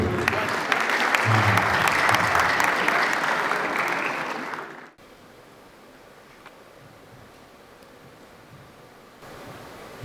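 Loud, dense applause from an audience at an Amharic-language event fills the first five seconds, then cuts off abruptly to a quiet room hum.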